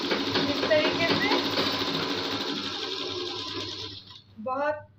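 A sewing machine stitching a neck strip on a suit or kurti, a loud fast steady whir of the needle running for about four seconds before stopping, followed by someone speaking.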